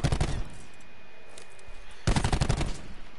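Loud, rapid bursts of machine gun fire in Black Ops 4, one dense volley at the start and another longer one after a brief lull, with no talk over it.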